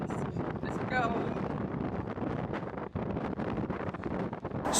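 Strong wind buffets the microphone in a steady low roar on Pen y Fan in South Wales, with brief voices mixed into the gusty rumble.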